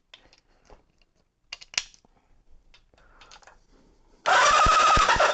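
A 1983 Kawasaki GPZ-550 motorcycle engine is cranked, with quiet clicks and handling noises first, then a loud, dense whirring crank with rhythmic pulses for the last second.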